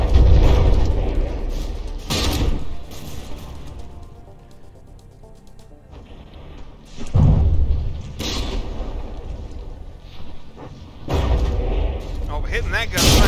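Naval gunfire in the video game From the Depths, with battleship secondary guns firing and shells landing. Several loud booming volleys arrive a few seconds apart, each followed by rumbling tails, and a voice commentates over them.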